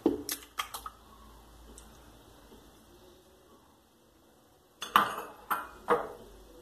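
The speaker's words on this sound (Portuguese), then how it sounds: "eu coloco no liquidificador os 3 ovos" Three eggs are cracked and dropped into a blender jar for a chicken pie dough, giving a few sharp clicks and taps at the start. A quiet pause follows, then more close knocks and clinks against the container.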